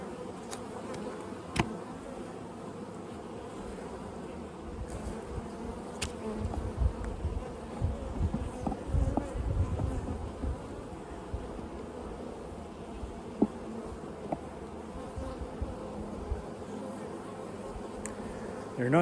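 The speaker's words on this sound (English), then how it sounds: "Bees on the patties." Honey bees buzz steadily around an open hive fed with pollen patties, a dense continuous drone of many insects close by, with some rustling and handling noises.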